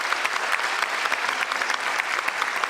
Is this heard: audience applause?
yes